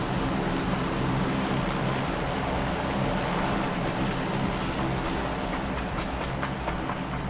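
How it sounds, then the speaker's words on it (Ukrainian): An airplane in the PUBG video game drones loudly and steadily overhead, a continuous broadband roar with no speech. "літак так голосно літає"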